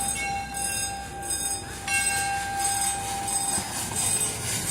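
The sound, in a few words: train passing at Cedar Point amusement park in rain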